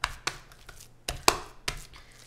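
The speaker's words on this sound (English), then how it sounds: "I put it on my cutting board, and I just start hitting it" Hands slap a meatloaf mixture down on a cutting board to compact it, giving about five sharp, close, dull smacks at irregular intervals with quiet gaps between.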